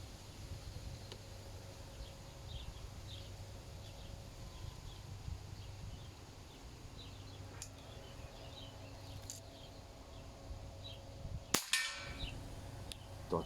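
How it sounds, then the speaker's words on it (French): Artemis PP700 semi-automatic air rifle fired at a small metal plate 25 metres away outdoors: two faint, distant pops, then one sharp, louder crack with a brief bright metallic ring, over a steady low rumble and faint insect buzz. "Donc là on tire à 25 mètres dans la petite plaque de métal"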